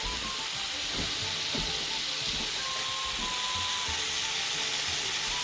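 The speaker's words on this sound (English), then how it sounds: "I'm going to brown my carrots." Carrots brown in hot oil in a pan, giving a steady, even sizzle and hiss with occasional small pops and crackles, close and continuous throughout.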